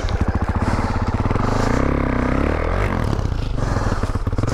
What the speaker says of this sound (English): I wonder if I can hit the throttle.